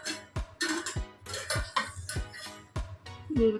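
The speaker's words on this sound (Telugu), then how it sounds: "అన్నం లైట్గా మెల్లగా అంటే అన్నం విరగకుండా కలుపుతున్నాను" Chicken pulao rice gently stirred in a cooking pot, a series of soft metallic scrapes and clinks in an irregular rhythm, fairly close and quiet.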